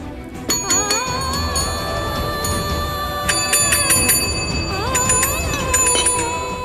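A bright bell rings repeatedly in a household kitchen during breakfast, its sustained metallic tones struck several times and ringing on loudly over a faint background.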